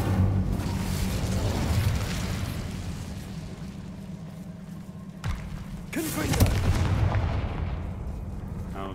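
The Incendio fire spell is cast in the video game Hogwarts Legacy, giving a sudden whooshing, booming burst followed by a second rumbling blast over quieter in-game ambience.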